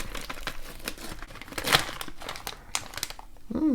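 A plastic packet of granola from a US MRE combat ration (Menu 20) being opened up close, with continuous crinkling and crumpling of the packaging and a few sharper tearing rustles.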